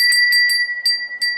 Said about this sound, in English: It's a glass bell.